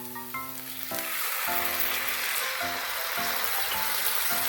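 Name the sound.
water poured into frying onions and ginger, sizzling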